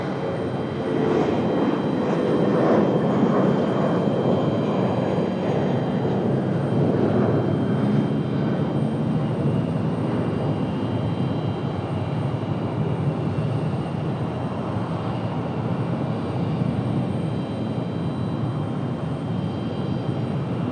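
A JetBlue jet airliner departs Raleigh-Durham International Airport with a loud, continuous engine roar. The broad rumble holds steady for about twenty seconds, and no voices are heard over it.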